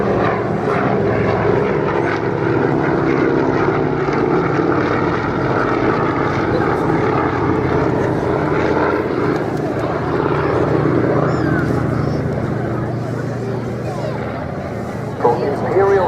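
A Harvard propeller aircraft flies at the 2016 RAF Cosford Airshow, its engine a continuous, loud droning roar, while an announcer speaks over the public address.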